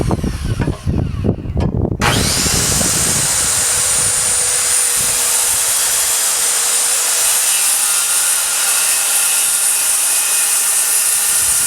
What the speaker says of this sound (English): I squared up my aluminum sled here so that my saw can ride perfectly perpendicular to the end grain here